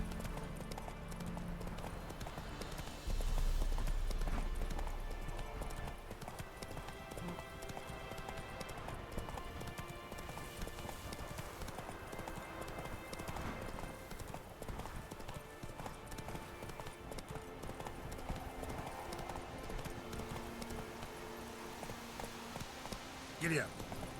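Horse hooves clip-clop at a steady trot for Roach, the mount in The Witcher 3 video game, a continuous near rhythm that runs under a man's speech.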